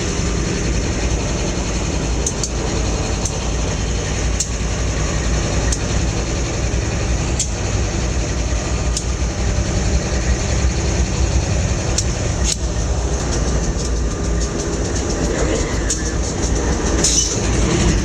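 A Dash 8-40B locomotive in the Trainz simulator rumbles steadily with a fitted EMD diesel engine sound, a dense continuous drone with faint rail clatter and a few sharp clicks throughout.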